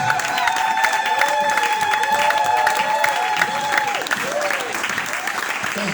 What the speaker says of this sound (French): Can we clap for the word of God?